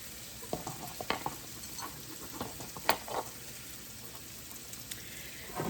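Diced mushrooms and pumpkin hit a hot pan for risotto and sizzle quietly, with a steady soft frying hiss and a few small pops and stirring taps throughout.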